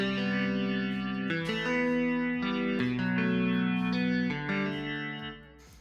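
Electric guitar chords strummed through a Plex preamp set to crunch, a gritty, slightly overdriven tone with swirling modulation, ringing out over several changes before fading.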